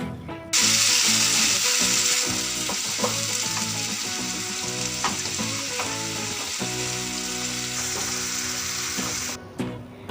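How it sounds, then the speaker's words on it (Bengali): Onion paste hits hot oil with whole garam masala and bay leaves, raising a loud, continuous sizzle close by, with irregular scraping and clanking stir strokes throughout before the noise cuts off at the end. "তারপর দেব পেঁয়াজ বাটা, দিয়ে ভালো করে নেড়ে চেড়ে নেব।"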